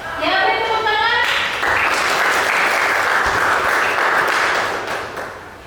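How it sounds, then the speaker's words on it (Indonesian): A classroom audience breaks into applause after a group presentation: a brief voice at the start, then dense, loud clapping that holds steady for several seconds before tapering off at the end. "beri tepuk tangan"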